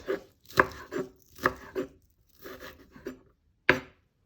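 A knife chops spring onions on a cutting board in a loose run of sharp, close taps, about nine strokes with short pauses between bursts; no one speaks.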